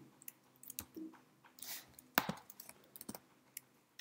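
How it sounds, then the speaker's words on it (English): Someone types a Google search for a Wacom driver on a computer keyboard: sparse, irregular key clicks and taps, fairly close and quiet, with no talking. "I'm going to type in EU"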